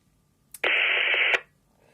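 A radio receiver tuned to 2m FM simplex at 145.475 gives a short burst of hissy signal, about a second long, opening and closing with clicks against a quiet background.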